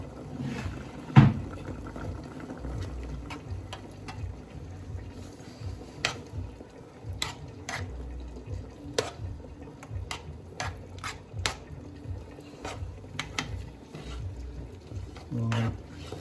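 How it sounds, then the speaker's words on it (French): Rice and white beans with parsley and coriander are stirred gently in a pot, a steady run of soft scrapes and light clinks from the spoon, with occasional quiet knocks throughout. "On mélange doucement. Comme ça, on ne casse pas les haricots."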